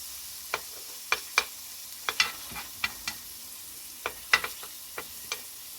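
A chicken burger patty being shaped and flattened on a hot skillet, with soft continuous sizzling punctuated by a dozen sharp pops and spatula taps at irregular intervals.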